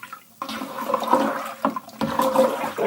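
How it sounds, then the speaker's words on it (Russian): Fermenting pear mash hissing and fizzing in a barrel as it is stirred, a close, steady watery rush with sloshing surges and a brief lull partway through. "Помешиваешь, шипит."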